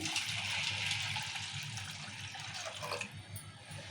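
Water pours over washed lentils in a pot as a steady close rush and splash that eases near the end, alone with no talk.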